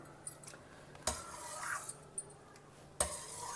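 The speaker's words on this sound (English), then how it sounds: "Just mash it well with the back of a spoon like this" Cooked pumpkin mashed with the back of a spoon in a pot, with quiet scraping and a few sharp metallic clinks and taps spread across a few seconds.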